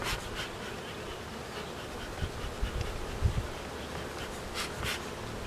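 A honeybee swarm hums steadily around a person wearing a bee beard, the buzzing soft and diffuse with a few closer bursts as bees fly near.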